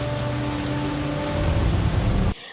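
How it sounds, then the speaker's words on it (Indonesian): Heavy rain roars against a car in a dense, loud hiss, with gusting wind, then cuts off abruptly at the end. "Angin semakin kencang membawa air hujan menghantam mobil mereka dengan sangat keras"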